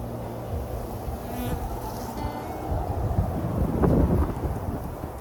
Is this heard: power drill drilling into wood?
no